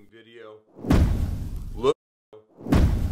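Two heavy whooshing impacts land about two seconds apart, each a loud rushing swell ending in a hard hit, with brief vocal sounds in between.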